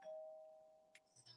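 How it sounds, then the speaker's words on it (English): A doorbell gives a single sustained electronic chime that rings out and slowly fades, faint and somewhat distant, followed by a couple of small clicks and knocks. "that was my doorbell, and I have no idea what it would be."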